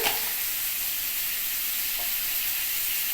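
Ridge gourd pieces fry in hot oil for a mung lentil dal, giving a loud, even sizzling hiss that runs unbroken for the whole stretch, with no voices.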